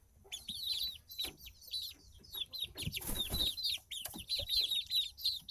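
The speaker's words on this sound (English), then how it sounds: "Here's the middle chicks. They're doing great." Young chicks kept on wood chips cluck and peep almost without pause, close and lively, with a brief scuffling rush in the middle.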